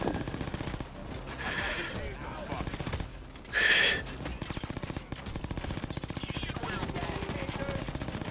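Rapid bursts of light machine gun fire in Payday 2 VR during a mall holdout wave. The fire is steady and repetitive, moderately distant, and runs under brief player speech with a short sharper burst midway.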